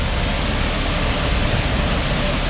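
Strong, heavy flow of the Bidadari Sekar Langit waterfall, a steady broadband rush of falling water that stays loud and constant throughout, with no voices over it.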